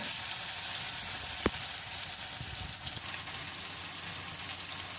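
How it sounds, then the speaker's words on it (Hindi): Pieces of suran (elephant foot yam) deep-frying in hot oil make a dense, continuous sizzling hiss. It holds steady throughout, with one sharp click partway through. "अब मैं इसको फ्राई करने जा रही हूँ"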